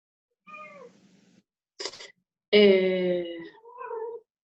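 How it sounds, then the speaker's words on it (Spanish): A domestic cat meows several times up close, with short calls followed by a loud, drawn-out meow and a final softer one, heard over a quiet online writing workshop with little other sound. "Tu gato quiere contarnos algo más, me parece."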